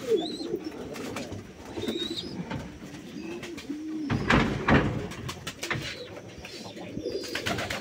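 Pigeons kept by a pigeon fancier in Rangpur coo in soft, low, repeated throaty phrases, close and fairly quiet, with rustling and a brief thump partway through and no clear talk.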